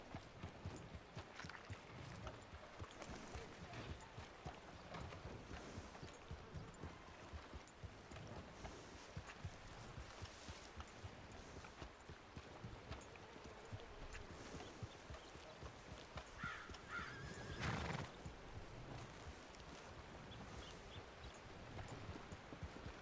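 Horse hooves clop at a trot in an RP video game, a quiet, steady rhythmic patter that runs throughout over soft rustling background noise, with no talk.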